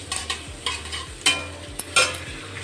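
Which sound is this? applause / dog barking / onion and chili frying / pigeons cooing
onion and chili frying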